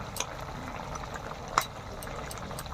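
Curry of small fried tengra fish with eggplant boiling steadily in a covered pot, a continuous close bubbling simmer with soft pops and one brief sharper clink near the middle.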